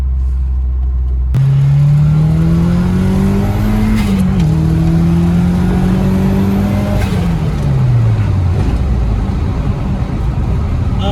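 A car, just back on the ground after CV joint work, accelerates from a small rolling start at part throttle. The engine note rises steadily, dips briefly at a gear change, then climbs again before easing off, loud and close throughout with no talk.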